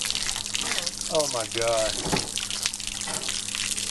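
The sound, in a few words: water running from motorhome tap driven by water pump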